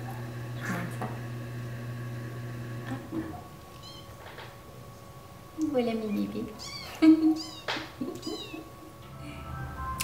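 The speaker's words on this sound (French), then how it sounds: "il y a les chatons qui se sont réveillés." Freshly woken kittens meow in several short high cries clustered in the second half, close and fairly loud, while someone speaks softly over a background hum.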